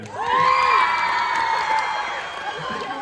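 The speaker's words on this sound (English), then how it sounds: "And we get a final round of applause for these guys." Live audience at a BFDI and Inanimate Insanity Q&A panel in Seattle cheering and whooping, with high-pitched shouts and crowd noise rising over a sustained roar that slowly fades, close and loud.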